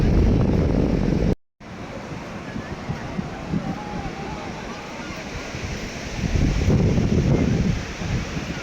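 Sea waves roll in at Digha beach with a broad, steady wash and surge, mixed with wind buffeting the microphone, after a brief dropout near the start; the roar swells louder toward the end.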